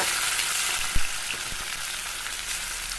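Fish fries in a pan with a loud, dense, continuous sizzle, and two or three soft knocks sound briefly partway through.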